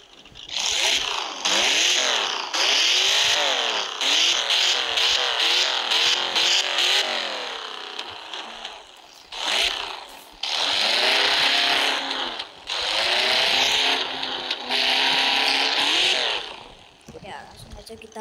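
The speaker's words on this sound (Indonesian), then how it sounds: "Seperti biasa, kita geber-geber dulu ya" A 4.7L V8 car engine in the RevHeadz racing game revs hard in repeated rising and falling bursts, loud and close, with brief pauses between throttle blips.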